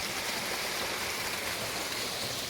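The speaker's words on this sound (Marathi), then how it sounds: "इकडे धबधबा आहे छोटासा" A small waterfall in dense forest gives a steady, soft rushing of falling water, constant and fairly faint, with no other sounds over it.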